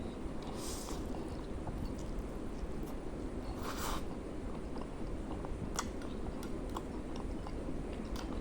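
Someone eats a spicy noodle lunch near the mic: soft, repeated chewing and slurping sounds over a steady low background, with a few brief sharper clicks and smacks scattered through.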